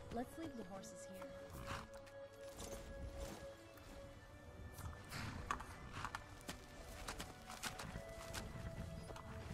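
Hooves clip-clop irregularly on the ground in the video game Skyrim Special Edition, mixed with faint creaks and a brief whinny-like tone; quiet and somewhat distant.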